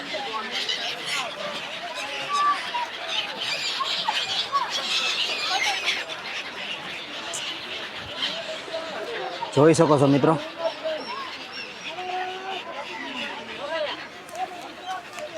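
Birds call and chatter in a dense flock along the Gomti riverbank in Dwarka, a busy layer of chirps running throughout beneath someone talking nearby, with a louder burst of voice midway.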